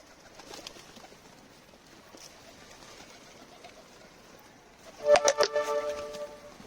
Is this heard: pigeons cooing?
yes